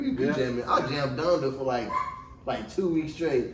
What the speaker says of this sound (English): If y'all heard that was my dog in the background.